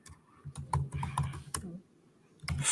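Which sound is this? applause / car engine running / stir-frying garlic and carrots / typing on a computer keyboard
typing on a computer keyboard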